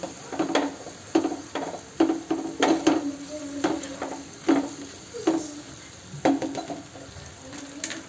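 A spoon scrapes and stirs through frying corn curry as chopped tomatoes go in, giving repeated sharp scraping strokes in an uneven rhythm over a soft sizzle, close and clear.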